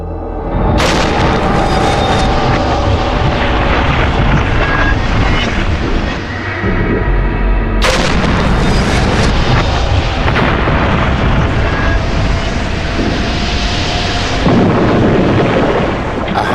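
A pressurised scale model of a Comet airliner fuselage is deliberately ruptured in a test chamber. The result is a sustained, loud roaring blast with a sharp renewed burst midway, and the rushing noise continues to the end.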